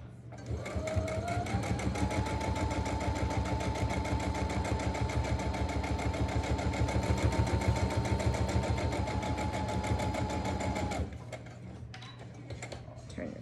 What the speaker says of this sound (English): I'm going to backstitch just a little bit here